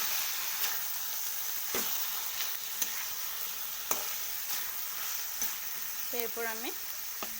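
Spinach posto fries in mustard oil with a steady sizzle, punctuated by several sharp clicks and scrapes of a spoon being stirred through the pan, close by; a brief voice speaks near the end.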